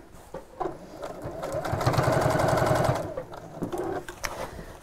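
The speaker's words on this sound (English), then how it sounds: "Because you'll be sewing over the ends of the strap, as you can hear there, the fabric's quite thick." A sewing machine stitches through the thick fabric ends of tote bag straps, a steady mechanical chatter that speeds up in the middle and then slows, close by and fairly quiet.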